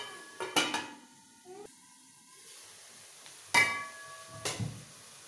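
A metal lid clanks onto a pan of aloo keema, with a few sharp knocks and scrapes spaced across a quiet kitchen background.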